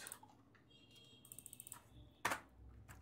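Quiet typing on a computer keyboard, a short run of light rapid key clicks followed by one sharper louder tap, heard up close in a near-silent room.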